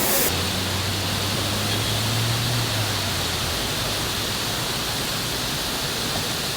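A waterfall in Munnar roars as a steady, dense rush of falling water that fills the whole clip at even loudness, with a faint low hum early on and no voices.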